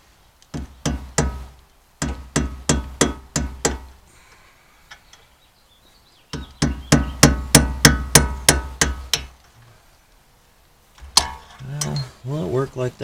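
A hammer taps a snug part into place while a Yukon Denali is leveled, struck in quick bursts of sharp metallic blows with pauses between them and a brief voice near the end.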